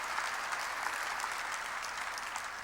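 A church congregation claps together during a sermon, a steady wash of applause that sounds distant and fairly faint, with no voices over it.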